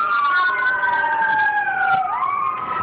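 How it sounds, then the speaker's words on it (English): An ambulance siren sounds loud and close as it passes, its wailing tone sweeping slowly up and down and dipping in pitch as it moves by, over steady street rumble with no talk. "I do want to apologize for the ambulance"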